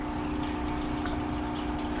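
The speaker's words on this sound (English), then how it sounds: "water's dripping through, back down into our holding tank" Water dripping through clay balls and plant roots back down into a hydroponic holding tank, a steady soft trickle with a constant low pump-like hum underneath, continuous and fairly faint.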